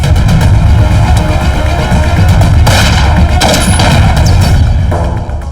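Dense, loud gunfire and explosive booms from a Hindi-dubbed South Indian action film, a continuous barrage of crashing shots and thuds filling the whole stretch with no clear pauses.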